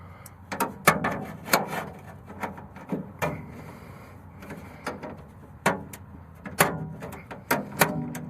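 Bolts being tightened on a vending van door, heard as a run of close, irregular metallic clanks and knocks spaced through the passage, with quieter rattling between them.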